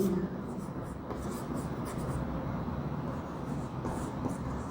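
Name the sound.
writing notes during a physics lesson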